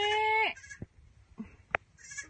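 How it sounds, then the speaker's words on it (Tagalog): A goat gives a loud nasal bleat at the start, followed by shorter, quieter bleats and calls scattered through the rest, heard close by with no talking. "Where's the goat? Where's the goat?"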